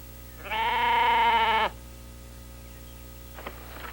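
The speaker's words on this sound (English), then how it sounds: "Oh, look, sheep." A single sheep bleats once, a clear, loud, wavering cry lasting about a second, followed by quiet background with a faint later sound.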